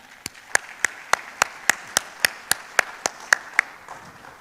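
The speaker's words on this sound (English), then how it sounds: "please welcome, with a big round of applause, Mr." Slow, evenly spaced claps from an audience welcoming a speaker onto a stage, each sharp clap standing apart over a quiet room, about a dozen in steady rhythm.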